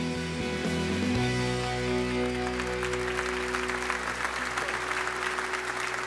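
A church congregation claps, a dense steady applause that carries across the room over a low sustained organ-like hum and faint voices.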